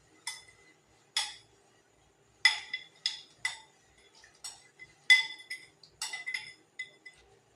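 A spoon mixes vinegar, turmeric and salt in a bowl, producing about a dozen bright, close clinks in irregular bursts separated by near silence.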